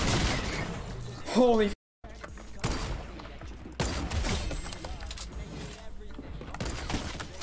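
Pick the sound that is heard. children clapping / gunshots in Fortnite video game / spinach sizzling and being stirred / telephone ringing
gunshots in Fortnite video game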